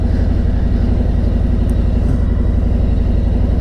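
A motorcycle on the road gives a loud, steady engine drone with constant wind rush, unbroken for a few seconds with no speech.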